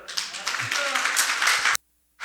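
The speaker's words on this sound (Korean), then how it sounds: "이게 맞으면 박수 부탁합니다." Audience applause at a lecture, a dense burst of many hands clapping that fills most of the moment before stopping abruptly into silence, with a little clapping resuming at the end.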